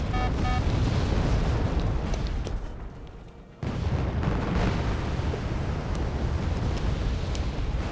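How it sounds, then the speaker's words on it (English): Napalm strikes in the Cold War strategy game Wargame AirLand Battle, a loud continuous roaring rumble of explosions and fire that drops briefly, then surges back with a sharp burst and rolls on with scattered cracks. "Bit more napalm."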